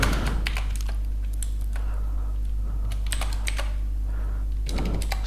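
Python code being typed on a computer keyboard, a steady run of quick clicky keystrokes with short pauses, close and fairly loud over a constant low electrical hum.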